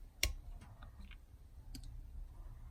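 A scrapbooking punch tool is pressed down, giving one sharp, quiet click followed by a few fainter ticks against a hushed room.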